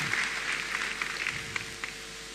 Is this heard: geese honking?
no